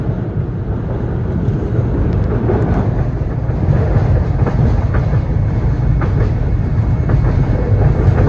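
Market-Frankford Line rapid transit train in Philadelphia running on its rails between 69th Street and Frankford: a loud, steady rolling rumble with faint clicks from the track throughout, no voices.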